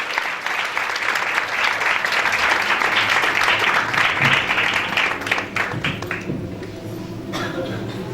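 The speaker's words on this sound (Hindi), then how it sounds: "तालियां बजती रहें" Sustained audience applause at a church worship gathering, dense and loud throughout, swelling briefly before easing slightly toward the end, with faint voices mixed in.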